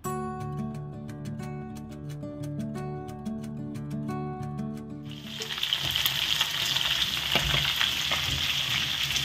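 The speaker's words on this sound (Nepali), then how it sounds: "अब प्यानमा अलिकति तेल हालेर हामीले अघि म्यारिनेट गरेको जुन चाहिँ मासु थियो त्यसलाई फ्राई गर्ने" Marinated meat drops into hot oil in a pan and bursts into a loud, steady sizzle, following a stretch of background music.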